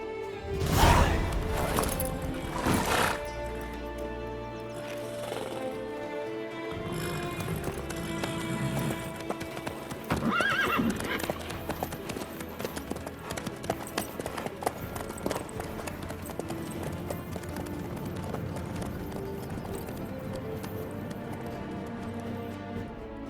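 Horse hooves clip-clop steadily in a video game, running under a dense bed of music and ambient sound, with a heavy crash early on and continuing through the whole passage.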